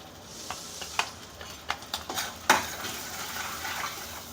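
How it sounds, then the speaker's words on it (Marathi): Goda masala and garam masala being sautéed in a pan for an amti, with a soft sizzle under repeated scraping and clinking of a spoon against the pan, close and fairly quiet. "छान मिक्स करून घेऊया. मसाले छान 1-2 मिनटं परतून घेऊत आपण."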